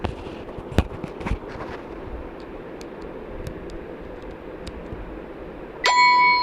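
An M5Stack Cardputer plays its startup bell chime at power-on: a short, bright ringing tone near the end, after a few faint clicks and handling taps over quiet room noise.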